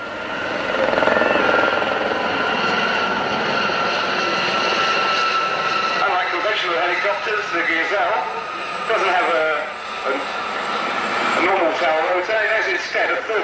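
Aérospatiale Gazelle helicopters with Fenestron tail fans fly in formation at the 1991 Leicester Airshow, a steady whining drone with rhythmic rotor pulsing that holds for the whole stretch, carried under continuous commentary.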